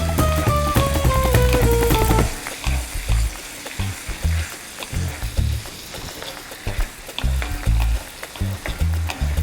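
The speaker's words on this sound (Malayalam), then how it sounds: "തക്കാളി ഇട്ട് വശക്കാം." Tomatoes sauté in a pan for drumstick curry with a loud, close, continuous sizzle and crackle. A brief tonal sweep at the start gives way to steady frying with occasional stirring scrapes.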